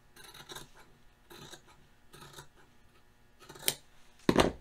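Scissors snip through a T-shirt's underarm seam in a few short, faint cutting strokes, quiet and close, with the last two cuts louder and sharper.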